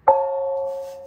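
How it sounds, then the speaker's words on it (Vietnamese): A Muong ethnic gong is struck once up close, giving a sharp attack followed by a steady, ringing, multi-toned hum that sustains and slowly fades. "đây là một chiếc chiêng khác của dân tộc Mường"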